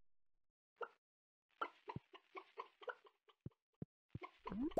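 Farm chickens in Stardew Valley give a string of short, soft clucks and plops one after another, close by and quiet, with brief gaps between them.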